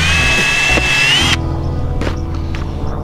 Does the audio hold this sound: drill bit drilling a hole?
yes